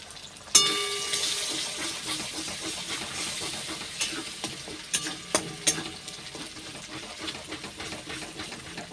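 An egg frying in a pan sizzles steadily while a spatula stirs it into crumbles, with sharp scraping clicks and taps scattered through the continuous hiss.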